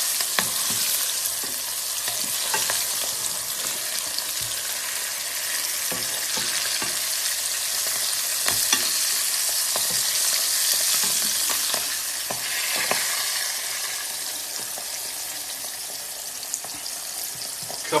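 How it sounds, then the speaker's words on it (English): Pieces of food shallow fry in a pan of oil with a steady, bright sizzle and scattered sharp pops and crackles, heard up close for the whole stretch without talking. "And we're only shallow frying these."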